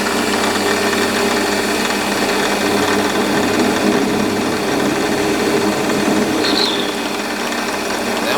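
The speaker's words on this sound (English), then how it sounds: "Now we're going to center it so that we can give it some tailstock support while we're machining this face here." A metal lathe runs at raised speed while centering the face of a home-cast pulley under tailstock support, a steady, loud mechanical whir and hum that holds unchanged for the whole stretch with no talking.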